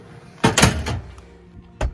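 A door on a 5x10 Bend teardrop camper trailer is worked, giving a near, loud cluster of knocks and latch clatter over about half a second, then one more sharp thud a moment later.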